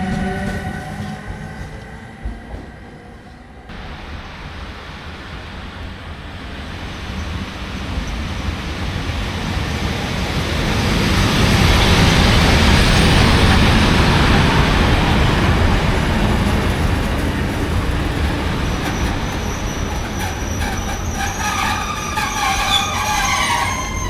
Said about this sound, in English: the Siemens Vectron Class 193 that has been with us since Vienna is swapped out in record time for a PKP Intercity Class EU07